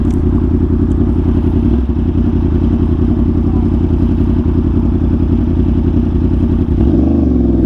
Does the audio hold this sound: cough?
no